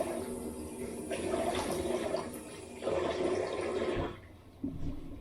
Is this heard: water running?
yes